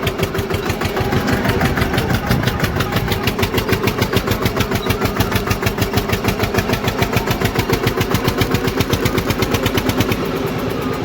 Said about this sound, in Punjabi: ਤੀਜੇ ਗੇਅਰ 'ਚ ਚੜਾ ਕੇ ਦੇਖਦੇ ਆਂ